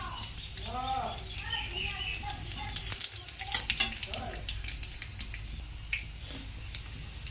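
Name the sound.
nigella seeds (black cumin) sizzling in hot oil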